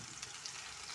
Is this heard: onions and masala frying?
yes